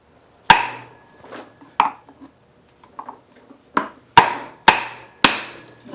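A pry bar levering against the flywheel of a 1967 Tecumseh generator, sharp metallic clanks and thwacks at irregular intervals, close and loud, with softer scrapes between them.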